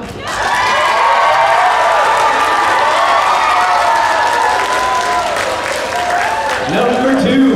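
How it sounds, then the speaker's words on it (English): Anime convention audience applauds and cheers loudly and steadily at a dating game show, a sustained crowd roar with shouts and whoops, continuing for several seconds before voices rise near the end. "Vote for your favorite here"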